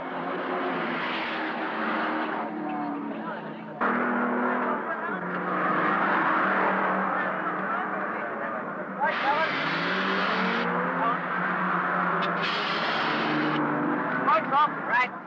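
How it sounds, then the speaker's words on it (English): Late-1970 touring race cars, including a four-barrel Valiant Pacer and a Ford Falcon GTHO, roar past at the Bathurst 500 with rising and falling engine notes and gear changes, while a commentator speaks over the engine noise. "Des West's four-barrel pacer flashes past to take over the lead."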